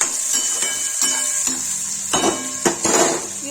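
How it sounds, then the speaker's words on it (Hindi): Ridge gourd (turai) curry with onions is stirred in a hot pan, with repeated scraping and clinking strokes of a spoon over a constant close sizzle and no talk. "सब्जी चला देंगे।"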